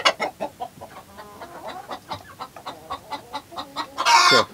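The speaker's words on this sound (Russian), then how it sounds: "петушок и курочка зеленолапая." A rooster and a green-legged hen cluck repeatedly nearby in a rhythmic series of short calls, ending with a louder, harsher squawk.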